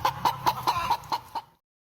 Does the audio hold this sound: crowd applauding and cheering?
no